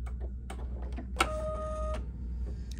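An embroidery machine sews a placement stitch for vinyl on a drawstring bag, a short burst of rapid mechanical stitching amid light clicks and a low background hum, close and fairly quiet.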